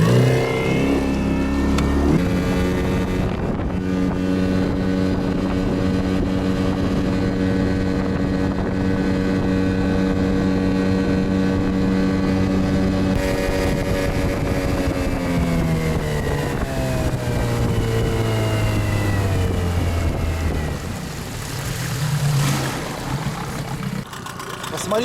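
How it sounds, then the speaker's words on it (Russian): A Yamaha 8 outboard motor running on its original propeller, pushing a small Flagman DK 390 boat on the water; a steady, sustained engine drone holds close and loud before the pitch sags and wavers near the end. "Посмотрите, как работает Yamaha 8."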